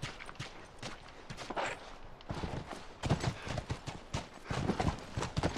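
Horse hooves clip-clop in a video game, in an uneven walking rhythm, close and steady, with soft scuffs between the beats and no voices.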